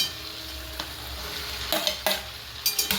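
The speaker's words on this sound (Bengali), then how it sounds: "দিয়ে এগুলোকে একটুখানি কিছুক্ষণ নেড়ে চেড়ে ভাজবো" Carrots, beans and capsicum stir-frying with chicken in a pan for a one-pot chicken meal, a steady soft sizzle broken by a few brief scraping stirs near the end.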